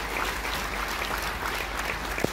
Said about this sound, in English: please give a huge round of applause as we bring Marva up to the stage